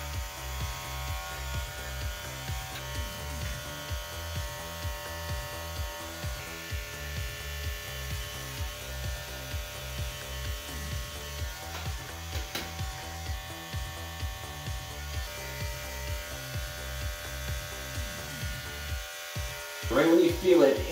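Electric hair clippers buzz close up in a rapid pulsing rhythm while shaving a head down to the skin in a self-administered military haircut, the strokes continuing for about twenty seconds before a brief burst of handling noise at the end.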